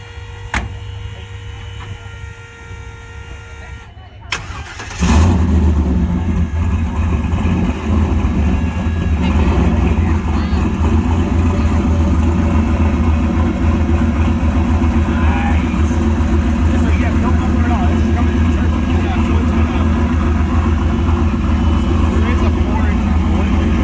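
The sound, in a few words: 1966 AMC Rambler Rogue turbo engine starting and idling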